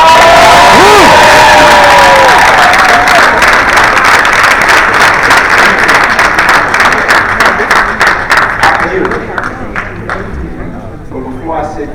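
A large audience at a Congressional Black Caucus Foundation conference session applauds and cheers for Sean Combs, a loud dense roar of clapping with whoops that gradually thins and fades toward the end.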